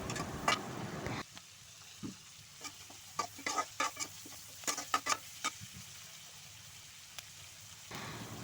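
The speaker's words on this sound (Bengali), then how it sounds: "এবার আমি মাছ ভাজা তেলের উপরেই পেঁয়াজ মরিচকে দিয়ে দেব," Onions and chilies frying in leftover fish-frying oil, a loud initial sizzle that drops away, then scattered crackles and pops with stirring clicks, and a sizzle swelling again at the end.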